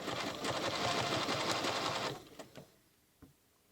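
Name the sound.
sewing machine stitching a quilt pattern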